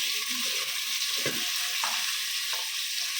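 Vegetables, including drumsticks and green chillies, fry in a pan for sambar with a steady, close sizzle, broken now and then by brief stirring scrapes.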